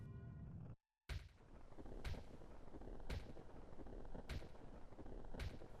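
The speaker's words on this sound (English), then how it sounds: "Well, the fireworks are going off." Fireworks going off at midnight in the video game The Legend of Zelda: Majora's Mask, a series of five sharp booming bursts spaced about a second apart over a low ambient background.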